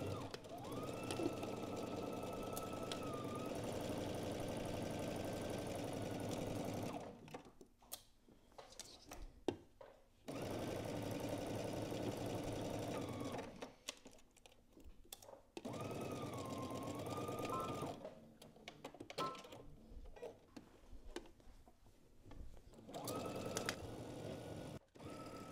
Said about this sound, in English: you're going to go ahead and stitch across your shoulder using 5/8 of an inch seam allowance